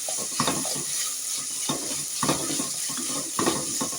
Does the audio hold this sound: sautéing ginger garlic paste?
yes